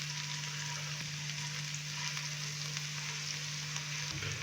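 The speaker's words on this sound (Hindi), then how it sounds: "अदरक और लहसुन के पेस्ट को हल्का सा फ्राई करना है हमने" Ginger and garlic paste fries in hot oil with a steady, close sizzle and faint crackling throughout, heard alone without any voices.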